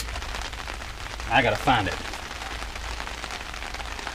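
Rain patters steadily on a surface around an engine work area, a soft continuous hiss with brief louder bursts as someone speaks close by.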